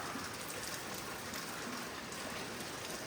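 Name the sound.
rain falling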